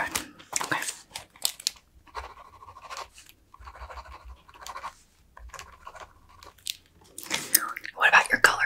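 Close-miked ASMR gum chewing: wet, sticky smacks and clicks recur in short bursts, alongside faint crinkly rustles and some quiet talking.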